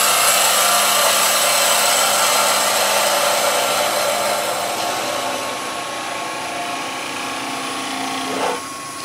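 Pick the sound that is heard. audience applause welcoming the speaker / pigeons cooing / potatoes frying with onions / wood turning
wood turning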